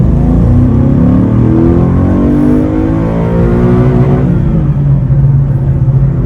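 A Dodge Challenger Hemi 392 muscle car accelerates hard on a highway, its engine roaring loudly as the pitch climbs through the gear, then dips briefly at a shift before pulling again, with no voices.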